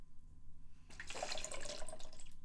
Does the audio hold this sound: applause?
no